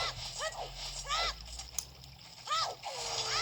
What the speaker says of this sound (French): je suis tombé dans l'eau